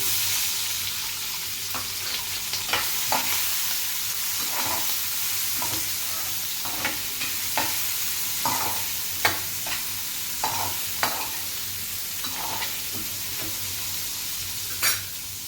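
Capsicum frying in a pan with garlic, a steady sizzle broken by repeated scraping stirs at an irregular rhythm, close and moderately loud with no talk.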